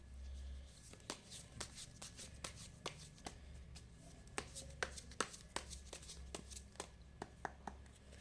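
Playing cards are drawn from a deck with quiet, repeated crisp snaps and slides spaced irregularly over a faint room hum.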